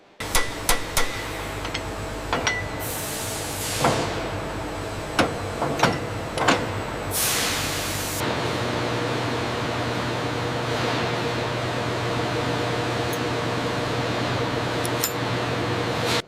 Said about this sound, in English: The assembly expert precisely drills the wooden stock into the receiver, ensuring a secure fit before the final inspection.